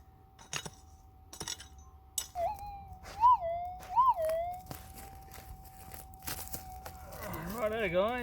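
A metal detector sweeping for gold at Kangaroo Flat holds a steady threshold hum, broken by rising, warbling squally target tones and a final burst of wobbling signal, with scrapes and clinks of digging around it.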